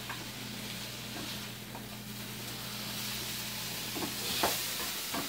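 Perch and pickerel pieces fry in a pan with a steady, soft sizzle that runs unbroken throughout, a low steady hum underneath and a few faint clicks and stirring scrapes toward the end.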